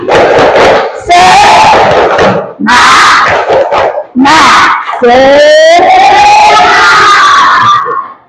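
A classroom of students performs a rhythmic clapping cheer, with loud bursts of hand claps and shouted chanting voices coming in several short waves.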